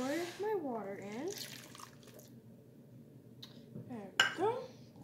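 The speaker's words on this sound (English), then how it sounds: "I'm gonna pour my water in." Water is poured into a slightly dirty bowl for making oobleck, giving a bubbling pour with light clinks of the bowl, while a person talks over it.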